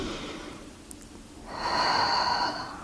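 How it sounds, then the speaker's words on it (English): A deep breath drawn in through the nose during a back stretch, rising to a loud, close, airy inhale that sustains for over a second before easing off, with no talking. "taking a nice deep breath into the open right side"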